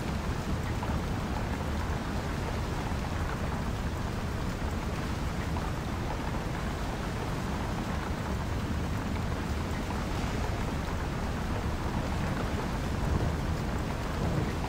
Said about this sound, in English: It's a nice old storm out right now.